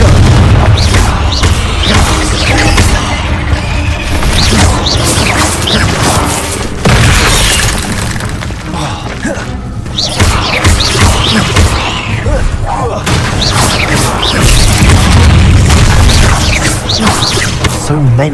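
Repeated booming spell blasts and crashes ring out in a Harry Potter video game battle, loud and dense throughout with whooshes and smashing debris, set under game music and dialogue.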